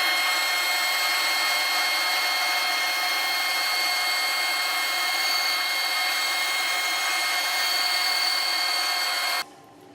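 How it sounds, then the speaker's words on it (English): Band saw slicing a thin veneer from a wide board of yellowheart wood on a table extension, a loud, steady whining cut with bright tonal hum that holds for about nine seconds, then drops away abruptly. "So now I'm going to go ahead and slice a piece of wood."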